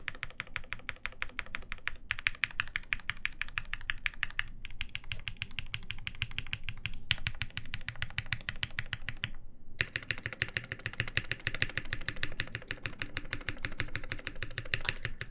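Fast, continuous typing on a custom lubed TGR 910SE mechanical keyboard, dense close key clacks in rapid bursts with a few short pauses between runs.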